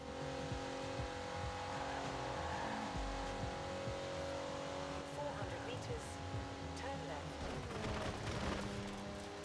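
Race cars in the Forza Horizon 4 video game, a continuous engine drone with shifting revs and some tire noise, steady and fairly loud throughout.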